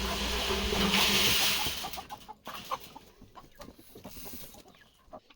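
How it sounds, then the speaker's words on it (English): Rooster on a farm clucking among a flock at feeding time, a series of short clucks and calls over a louder rushing background early on, then fainter. "This is the rooster that we're trying out with the flock"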